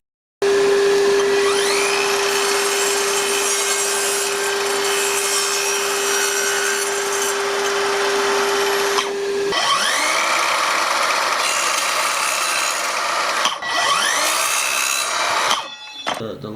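Evolution 18V cordless sliding saw cutting wood, a loud whining motor spin-up followed by a long rasping cut, then two shorter bursts of cutting and spin-down near the end.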